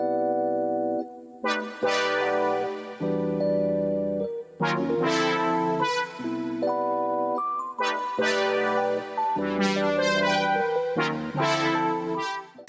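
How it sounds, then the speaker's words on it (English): A retro synth melody plays with keys in a 70s-style soul loop: warm sustained chords and bright lead notes move in phrases with brief gaps between them, with no voices. "So the synth soloed with the keys sounds like this."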